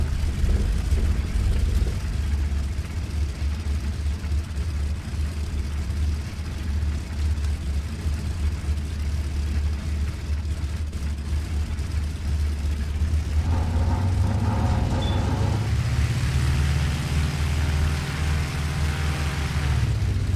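A World War II aircraft engine from the IL-2 Cliffs of Dover flight simulator runs steadily at startup and warm-up, a loud, continuous low drone with a rising tone shift near the end.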